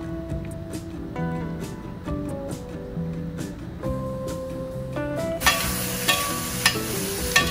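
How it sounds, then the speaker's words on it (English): Sesame ginger tofu being stir-fried in a hot pot gives off a steady sizzle and frying hiss while it is stirred, with a louder burst of sizzling near the end. "You'll just be stirring and frying, because again, the pot should be hot."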